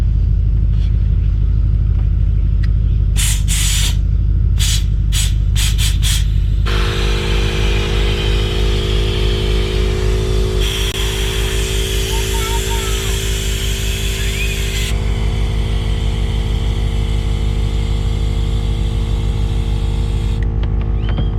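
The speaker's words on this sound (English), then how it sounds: "So it comes in handy, blowing up Jack's little inflatable. Literally takes like seconds." An electric air pump inflates a child's small inflatable, holding a loud, steady droning hum close by for most of the stretch after some knocks and handling sounds at the start.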